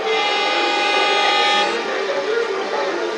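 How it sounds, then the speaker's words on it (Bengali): A train pulls away from a station at night, a sustained horn-like tone and rumbling carriage noise filling the space loudly and continuously, easing slightly partway through. "ট্রেন আমাদের ছেড়ে দিয়েছে"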